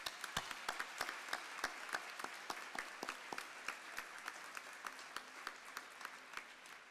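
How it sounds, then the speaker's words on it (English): Sustained applause at a senior campus graduation ceremony, a steady wash of many hands with sharp individual claps standing out, moderately distant and even throughout. "can we please give Erin and the team a very"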